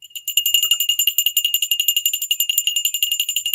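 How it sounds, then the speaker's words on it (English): A bell rings rapidly and continuously for several seconds during an earnings livestream, its bright metallic strikes repeating in a fast, even rhythm, loud and close with no talk. "We got to ring the bell."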